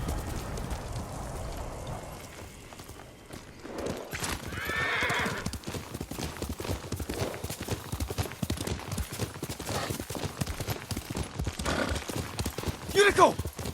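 Horse hooves clip-clop along steadily with a neigh in Ghost of Tsushima on PS4, over soft rain-like patter and a low ambient bed; a voice speaks briefly.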